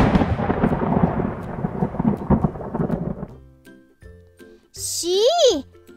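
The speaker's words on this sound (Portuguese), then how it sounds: "Ele nem correu do trovão?" A thunderclap from an animated Turma da Mônica comic story, a loud rolling rumble that decays over about three seconds. A short tinkling, whistling effect follows, and a voice is speaking.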